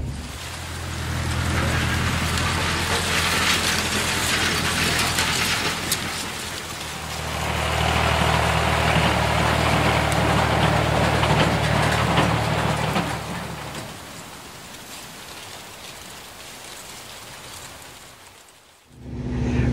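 Cotton gin machinery at a co-op gin in West Texas runs as a steady, loud broadband roar with low mechanical hum, swelling midway then easing off, with no talking.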